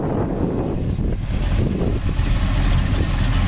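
A 1969 Chevelle SS V8 with a lively cam and headers idles close by, a deep steady lumpy rumble that lopes throughout without any talking.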